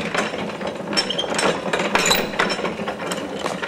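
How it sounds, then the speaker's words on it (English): An antique hand-cranked washing machine's clutch and gear train clicking and ratcheting as it turns, a close, steady mechanical clatter of repeated pawl ticks without talk. "That's a little clutch mechanism. I can take it out of gear."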